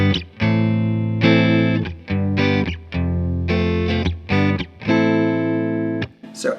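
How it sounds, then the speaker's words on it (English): Electric guitar run through distortion and chorus effects strums a chord progression, loud and close, with sustained chords changing every half second to second and brief gaps between them, no voices. "So say we have a chord progression that sounds something like this."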